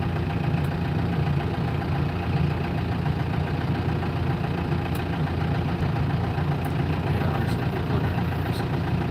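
A steady, loud diesel tractor engine idling with a low rumbling chug, constant throughout with no talking.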